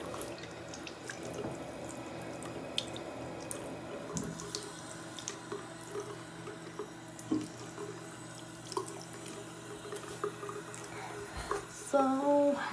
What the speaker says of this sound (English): I'm gonna get my hair wet.